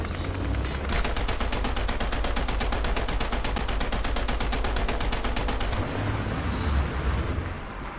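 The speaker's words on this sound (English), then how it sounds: "Oh, yep, I'm being shot at." Sustained rapid automatic gunfire in the War Thunder video game, a dense loud burst of shots lasting several seconds from incoming fire, with duller booming before and after.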